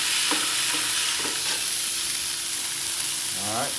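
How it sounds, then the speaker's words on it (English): A smash burger patty sears on a 22-inch Blackstone griddle with a loud, steady sizzle and hiss, punctuated by a few scraping taps of a spatula, close and continuous throughout. "I'm going to smash that bad boy down. Put a big sear on it."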